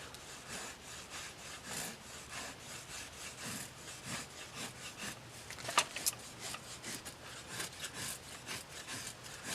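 Wood being shaved into fine curls for a ferro rod fire: continuous soft scraping strokes in a loose rhythm, close and quiet, with one sharper click midway and no voices.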